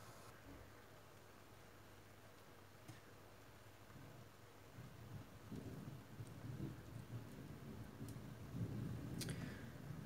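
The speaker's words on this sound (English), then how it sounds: "and yet there's a thunderstorm outside tonight." A nighttime thunderstorm outside on a hot evening, heard from indoors: faint rain and low rumbling that swell louder in the second half, with a few sharp ticks.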